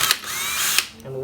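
A power drill whirs in short bursts as it is used to force open a laptop, with a mechanical ratcheting edge, close and fairly loud, stopping near the end with a faint tonal tail.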